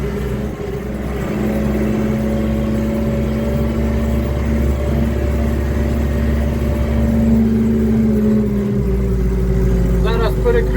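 Tractor pulling a fertilizer spreader that scatters ammonium nitrate, its engine holding a steady loud drone with tonal hum as it drives off across the field, and someone talks over it.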